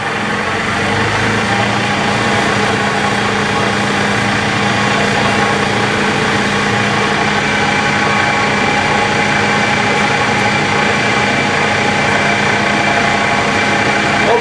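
Wood lathe running fast while turning sleeper wood into twin boxes, a loud steady motor whine and hum with constant vibration that holds evenly for the whole stretch, no talking.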